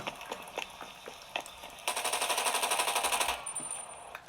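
Rapid video game gunfire plays through the speakers of a Razer Blade 15 Advanced laptop at volume 52, a few scattered shots and then a sustained automatic burst, thin and somewhat boxy.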